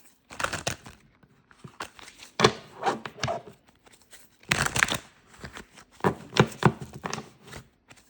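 A deck of cards is shuffled repeatedly by hand during a tarot reading, producing quick crisp riffling bursts in irregular clusters with short quiet gaps between them, close and clear without talk.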